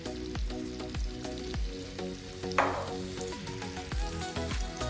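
Rava-coated prawns sizzle steadily in hot oil, a dense crackling fry with one brief louder burst of spatter partway through and no voices.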